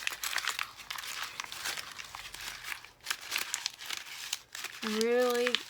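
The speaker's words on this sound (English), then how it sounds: "Brown bag, regular grocery bag. And now I'm going to crumple it up." Dense crinkling and crumpling of a stiff brown paper grocery bag, loud and close, with brief pauses, ending in a short burst of other sound.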